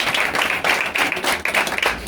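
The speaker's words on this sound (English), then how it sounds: "So a round of applause." An audience at a talk show launch event applauds, giving dense, steady clapping from many hands that stays fairly close and loud throughout.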